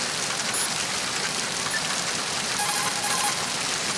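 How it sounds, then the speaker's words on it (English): Dense, constant rain hisses loud and steady throughout, a game soundscape from Metal Gear Solid 2, with faint tonal blips now and then and no voices. "This rain is getting annoying."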